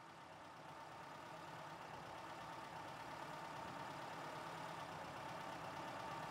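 A just-started engine idles in a steady, even drone with no revving, faint and continuous throughout.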